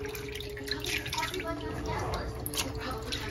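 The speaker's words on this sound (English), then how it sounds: "we continue to wash our peas" Split peas being rinsed and washed under running water in a kitchen sink, a steady close splashing and trickling with small drips throughout, a faint tonal hum underneath.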